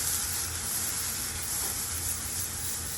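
A sausage sizzling in a hot pan during home cooking, heard as a steady bright hiss and crackle of frying that stays even and close throughout, with no voices.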